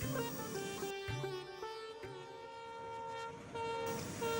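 Train horn sounding in long sustained tones with a steady rumble beneath, loud and close, with brief breaks where the blast shifts pitch.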